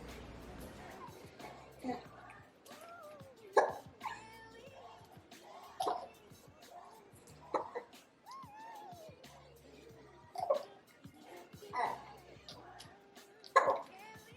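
A newborn baby hiccups in short, sharp bursts every second or two, close and fairly quiet, with soft vocal sounds and a little background noise between them.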